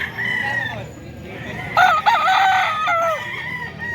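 A banded gamefowl rooster crows loudly and nearby, one long wavering call midway through, with softer clucking and someone talking around it.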